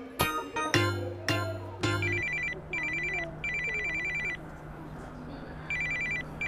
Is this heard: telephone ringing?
yes